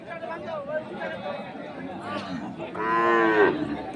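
A Sahiwal dairy cow at a cattle market moos loudly near the end, a long low bellow following a few seconds of people chattering nearby.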